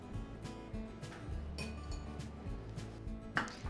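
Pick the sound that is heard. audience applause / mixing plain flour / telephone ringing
mixing plain flour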